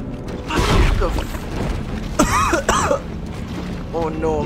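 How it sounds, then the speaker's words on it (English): A few harsh coughs and throat-clearing sounds come close and loud amid bits of speech and background noise from the game Dead Space. "I'm starting to cough again."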